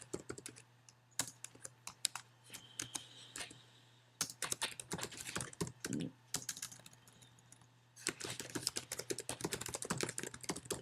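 Keyboard typing as an email address is entered, with irregular bursts of close, crisp key clicks broken by short pauses and a faster, denser run toward the end, over a faint steady hum.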